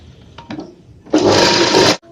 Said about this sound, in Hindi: तो चलिए इस पे सिलाई लगा लेते हैं।